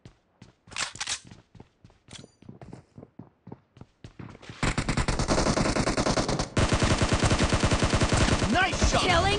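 Gunfire in the PUBG video game: a string of separate sharp shots that grows into sustained rapid automatic bursts, loud and close, continuing to the end.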